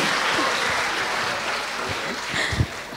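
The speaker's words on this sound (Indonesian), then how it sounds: "Kasih tepuk tangan dulu buat Kak Supri" A church congregation applauding in a GBI church hall, a continuous wash of clapping at steady volume, with a few louder thumps near the end and little speech.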